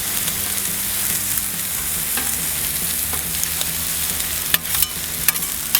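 Hash browns fry on a Blackstone griddle with a steady, close sizzle, broken by occasional light scraping clicks and no talking.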